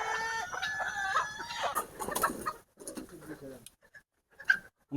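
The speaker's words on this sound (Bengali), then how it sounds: "আমাদের মুরগি আনা হয়ে গেছে প্রায়।" Chickens cluck and call in a poultry house, a busy mix of close bird sounds that fades into sparser, intermittent clucks toward the end.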